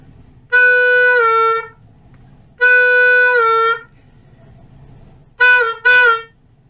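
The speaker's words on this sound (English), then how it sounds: "The first section begins with 2 4 draws played natural, then quickly bent down like this." Blues harmonica playing an opening: two long 4-hole draw notes held natural then bent down, followed by two short bent stabs, clear and loud with soft noise between phrases.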